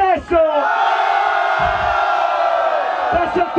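A crowd at a freestyle rap battle in Amsterdam cheering and shouting loudly to vote for Cianuro, a sustained roar of voices and whoops lasting several seconds that builds after a brief dip.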